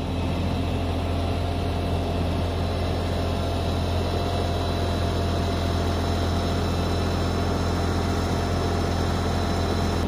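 Kioti tractor engine running steadily while plowing snow in a backyard, a constant loud low-pitched hum with no voices.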